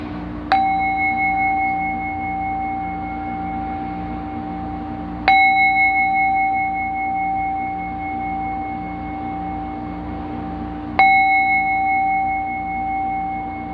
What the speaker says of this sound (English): As the bell plays, let the sound of the bell